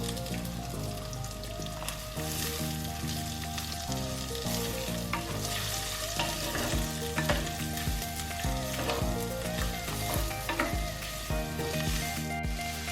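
Crushed ginger, garlic and onion fry in a pan for kaanthari chicken, a steady close sizzle running the whole time with light stirring clatter and a bright background tone.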